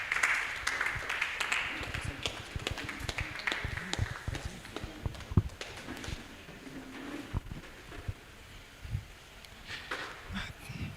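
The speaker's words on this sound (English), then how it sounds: "Let's begin to clap for them as they leave the stage." An audience claps as panel speakers leave the stage at a live event: scattered, uneven applause with sharp individual claps, moderately quiet and continuing throughout.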